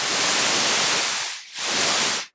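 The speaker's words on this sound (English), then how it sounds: "standard white noise." Raw white noise from a Sequential Circuits Pro One analog synthesizer, a loud broadband hiss held steadily, briefly dipping and swelling back, then cutting off sharply at the end.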